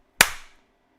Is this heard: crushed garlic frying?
no